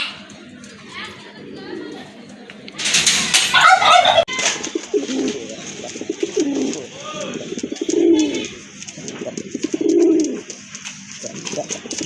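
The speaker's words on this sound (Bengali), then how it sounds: "এটাও হচ্ছে আপনার বিগ সাইজের এক জোড়া কবুতর রেড কালারের ভিতর" A pair of big red pigeons coo in low repeated phrases up close, with a burst of bird flutter and chatter partway through and a voice talking over much of the sound.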